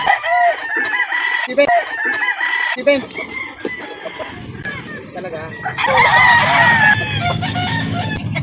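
Roosters crow repeatedly and chickens cluck at a farm in Calauan, Laguna, the loud birds layered over one another at close range with busy background noise.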